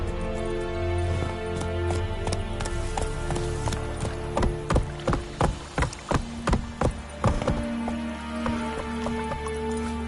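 Horse hooves clip-clop in a quick run of about ten sharp, evenly spaced strikes, loud and close, over a steady musical background while the rider urges the horse on.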